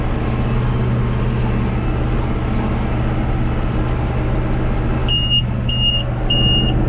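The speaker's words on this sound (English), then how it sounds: "Three beeps means it's time to stop." A tractor-drawn hay baler's monitor gives three short, clear electronic beeps to signal a full chamber during first-cutting haymaking, evenly spaced over a loud, steady engine drone.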